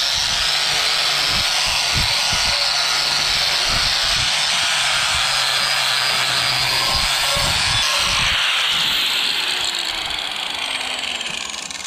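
A power tool grinds and sands a cast iron skillet with a finer grit. A loud, continuous abrasive whine runs throughout, with rhythmic scraping pulses beneath it and a slight drop in pitch near the end.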